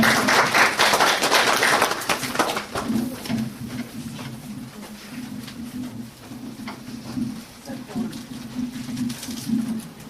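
Audience applause welcomes a guest, an academy director, onto the stage at a talk, loud at first and thinning over the opening seconds as a voice starts speaking.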